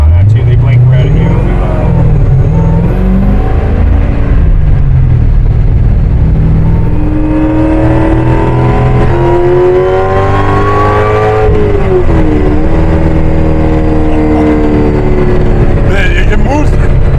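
A 1969 supercharged Camaro accelerates hard, its loud, close engine note climbing steadily in pitch, dipping briefly and climbing again as it pulls away.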